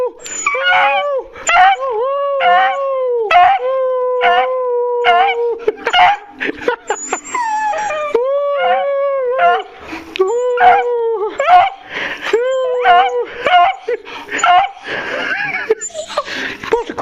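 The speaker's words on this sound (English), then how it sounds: "You gotta howl for me." A rescue dog howls and whines in long, wavering, pitch-sliding cries broken by short yips and breathy whimpers, loud and close, while someone speaks to it and makes excited sounds.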